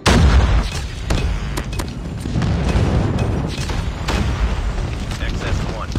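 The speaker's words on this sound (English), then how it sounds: "Friendly airstrike incoming." Heavy booming blasts from an airstrike in a Call of Duty match, opening with a loud impact followed by a rolling rumble and scattered sharp cracks, with a voice speaking over the din.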